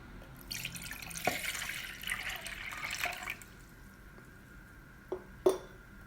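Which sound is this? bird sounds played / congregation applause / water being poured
water being poured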